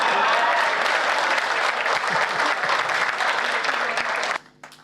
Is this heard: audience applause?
yes